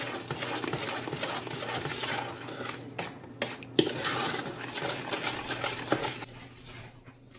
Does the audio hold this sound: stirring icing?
yes